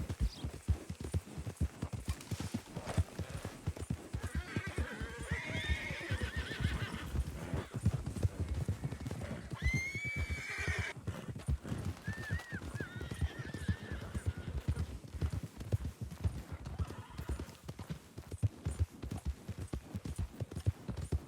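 Horse in Red Dead Redemption 2 galloping with steady clip-clop hoofbeats throughout, breaking into loud whinnies and neighs partway through, close and prominent without talk.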